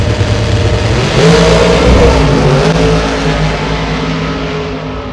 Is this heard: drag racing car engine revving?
yes